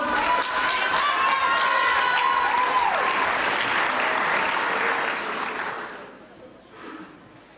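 Audience applause with cheering at a Samoan siva dance tenth-anniversary show, a loud sustained burst of clapping over a crowd roar that fades near the end, with a whistle-like tone early on.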